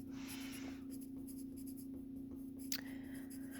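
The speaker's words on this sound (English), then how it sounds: "I'm going to write both terms are positive." Marker or pen writing out a factoring problem during a math lesson: a brief scratchy stroke burst near the start and a sharper squeak later, faint over a steady low electrical hum, with no talking.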